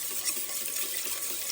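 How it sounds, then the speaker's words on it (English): Liquid poured gradually into a donut dough mixture while it is stirred, giving a steady, close watery trickle with no talking. "we're going to gradually pour this in while stirring"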